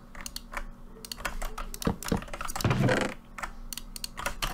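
Rapid bursts of keyboard typing, clattering keys pressed in quick irregular runs during a Minecraft survival session, close and fairly loud with no talking.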